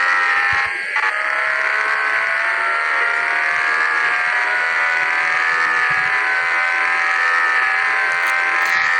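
A bus in a video game drives along with a steady, loud synthetic engine drone holding one pitch throughout, a brief dip near the start and a faint electronic tone near the end.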